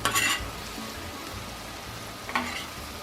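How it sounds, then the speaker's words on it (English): Shrimp sizzling in a hot pan as they are tossed in a garlic sauce for Hawaiian-style garlic shrimp, a steady crackling fry with brief louder bursts of stirring near the start and again toward the end. "toss the shrimp in that garlic sauce that we made"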